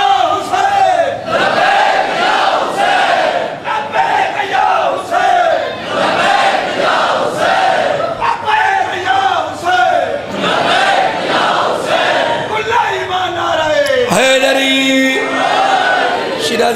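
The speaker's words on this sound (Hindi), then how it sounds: "लबैक या हुसैन लबैक या हुसैन" Religious gathering where a crowd chants Labbaik ya Hussain in unison, loud, dense and continuous with a steady repeating rhythm, voices massed close together, shifting near the end into a brief, different vocal passage.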